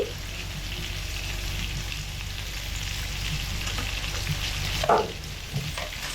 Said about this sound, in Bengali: গরম কড়াইতে অল্প পরিমাণে সর্ষের তেল দিয়ে দিচ্ছি